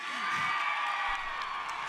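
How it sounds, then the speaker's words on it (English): A live concert crowd cheering and whooping for the cameraman, a broad roar of voices and shouts rising briefly then holding steady, heard from within the audience. "Round of applause for the cameraman."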